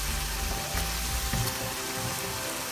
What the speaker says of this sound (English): Keep sauteing until the oil separates.